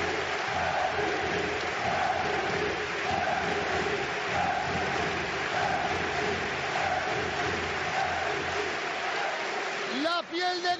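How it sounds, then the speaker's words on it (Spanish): A basketball arena crowd in Valencia gives a long, sustained ovation of roaring cheers and applause during a final, a dense continuous wash at moderate level with a voice briefly rising near the end. "La ovación del siglo."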